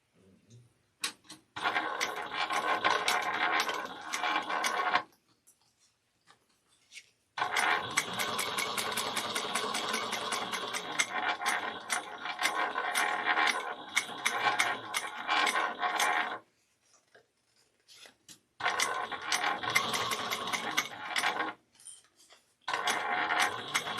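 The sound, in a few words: sewing machine sewing waterproof canvas bag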